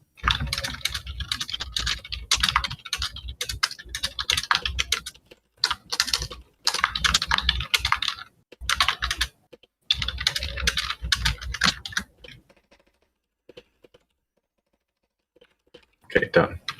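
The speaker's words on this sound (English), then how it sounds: "Is that you typing?" Typing on a quiet, subtle computer keyboard during a Linux scripting session, with steady bursts of rapid key clicks for about twelve seconds, broken by brief pauses, then near silence and a short final burst.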